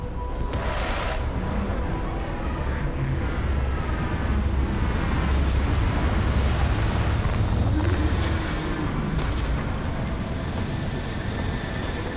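A spaceship landing in the game Starfield, a steady, loud broadband roar of thrusters and engine rumble that holds without pause throughout.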